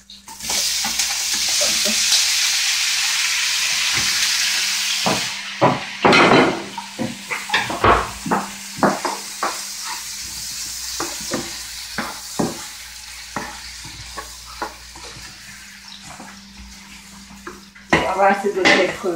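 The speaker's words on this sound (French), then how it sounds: "pendant que les calamars sont en train de frire, là on va mettre les crevettes" Squid rings and shrimp frying together in a hot pan, a steady loud sizzle that later gives way to scattered stirring, clinks and scrapes of utensils against the pan, with brief talk over it.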